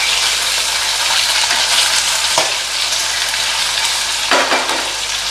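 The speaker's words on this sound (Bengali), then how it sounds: "লো থেকে মিডিয়াম ফ্লেমে এটাকে ভাজছি" Rohu fish pieces fry steadily in a covered pan over a low-to-medium flame, a loud, continuous sizzle and crackle throughout with a couple of brief sharp spits.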